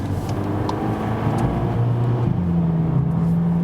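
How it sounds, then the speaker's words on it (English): A small car's engine runs steadily while driving, a loud, continuous low drone with a tonal hum that shifts in pitch partway through, alone with no voices. "Actually, nice sound always from such a small car."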